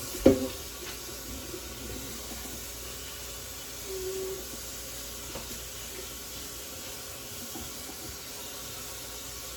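A kitchen tap runs steadily while raw chicken is being washed, a soft continuous hiss of water at moderate distance with a small clunk at the start and no talking.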